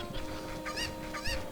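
Cuccos, the chickens of Zelda: Ocarina of Time, give a few quick clucks, two of them clear and close, over game background sound.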